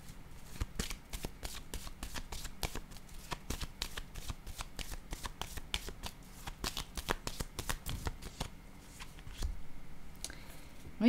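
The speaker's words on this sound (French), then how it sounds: "Je vais déposer une carte ici." Playing cards are handled and placed on a table during a card game, making a rapid series of crisp, close snapping flicks with brief pauses between them.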